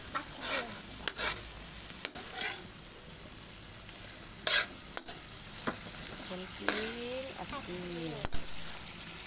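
Vegetables and sardines are stirred in a frying pan, with steady sizzling and repeated scraping strokes of the utensil. A voice talks intermittently over the cooking.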